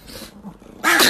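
A dog growls during play, a low, rough rumble that ends in a sudden, loud, snorting burst, heard close up.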